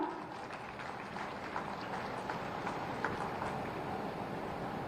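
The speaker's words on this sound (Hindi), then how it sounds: "एक बार जोरदार तालियां।" Crowd applause at an outdoor government ceremony in Balrampur where development projects are inaugurated and scheme benefits are handed out, a steady wash of clapping with scattered sharper claps, moderately distant and sustained throughout.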